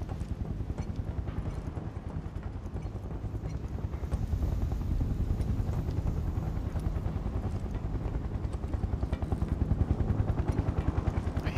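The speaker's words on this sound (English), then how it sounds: "Hear the helicopter pretty loudly." A helicopter in the video game Final Fantasy 7 Remake, its rotor thumping loudly and steadily in a fast, unbroken pulse that holds throughout with no talk over it.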